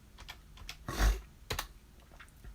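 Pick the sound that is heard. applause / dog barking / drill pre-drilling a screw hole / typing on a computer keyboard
typing on a computer keyboard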